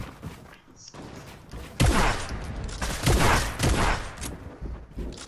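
Gunfire from a tactical assault rifle in Fortnite: repeated bursts of rapid shots, loud and close, in several clusters over a few seconds, with heavy thuds and impacts mixed in.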